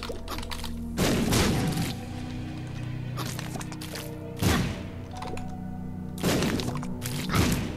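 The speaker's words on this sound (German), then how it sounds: "Bombe." Explosions from bombs in the video game The Binding of Isaac: three booming blasts with bright crackling bursts about every three seconds, over a steady droning game soundtrack, with no talk.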